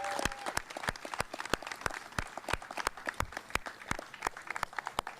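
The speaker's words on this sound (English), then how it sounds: "Please give Governor Carney a round of applause." Scattered clapping from a small crowd at the Christina River Bridge ribbon cutting, individual claps distinct and irregular rather than a dense roar, continuing steadily throughout.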